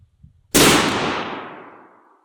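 A single sharp rifle shot cracks out at a target range, loud and close, its echo fading away over about a second and a half after a quiet moment.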